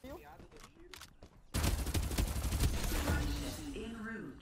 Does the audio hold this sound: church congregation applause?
no